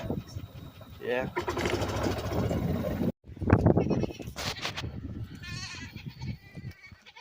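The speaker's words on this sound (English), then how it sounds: "Let's go see our goats." Goats bleating on a farm, several calls rising above people talking nearby, with a brief break midway before the bleats and voices resume.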